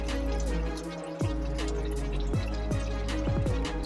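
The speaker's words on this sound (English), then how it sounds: "draining it from the driver's side, and we'll get back with y'all as soon as it's done draining." Transmission fluid drains from the pan of a Chrysler 300 in a garage, a constant low stream with repeated falling drip tones plinking over it, close and steady.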